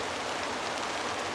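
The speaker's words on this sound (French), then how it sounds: "Donc il pleut toujours" Steady rain falling in a forest, a constant broadband hiss of drops on leaves and ground with no voices, even and close throughout.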